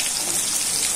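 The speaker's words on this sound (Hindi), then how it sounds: "जीरा तड़कने लग गया है" Cumin seeds crackle and pop in hot oil for a moment, a dense, close, continuous spatter of tiny sharp crackles.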